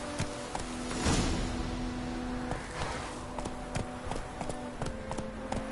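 Hoofbeats of Roach, the horse in The Witcher 3: Wild Hunt, a steady clip-clop gait over soft game ambience with a brief swell of noise early on.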